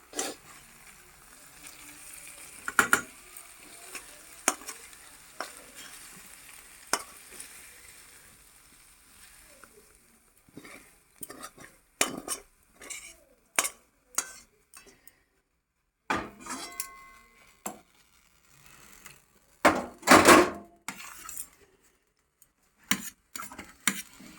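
Cooked onion-stalk curry tipped from a pan with a clatter of metal utensils scraping and tapping the cookware, a run of close, sharp clinks and stirring sounds over a faint sizzle, no talking.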